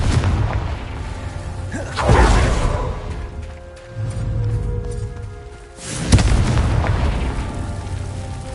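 Confringo blasting spells explode in the Hogwarts Legacy video game. Three loud booming blasts hit at intervals, each a sharp burst that fades into a rumbling tail, with steady game background sound between them.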